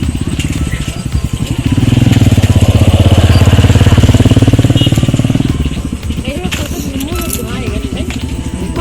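A motorbike passes close by on a village roadside, its engine swelling to a loud, steady rumble and then fading away, while people talk over it.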